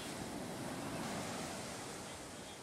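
Steady, dense rumble of high ocean waves surging onto a beach in Aceh Barat Daya, Indonesia, a constant broadband wash with no voices.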